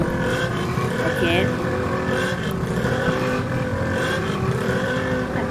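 A motorcycle ridden in the GTA video game, its engine droning steadily and loud throughout with a faint voice underneath.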